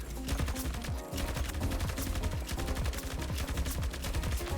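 Rapid automatic gunfire from an RPT-31 light machine gun in Battlefield 2042 rattles in dense, continuous bursts, loud and close throughout, with no speech.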